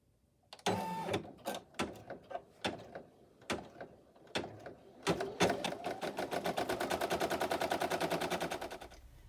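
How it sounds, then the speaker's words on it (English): An embroidery machine stitching the satin border of a double-layer applique patch, starting with irregular sharp knocks and thumps, then settling into a fast, steady mechanical chatter of needle strikes, close and loud. "this is going to stitch the satin border stitch for the first half"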